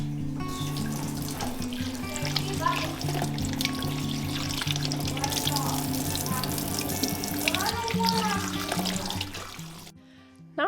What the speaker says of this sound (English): I just rinsed them in some warm water, took one handful at a time, rinsed them again individually by handful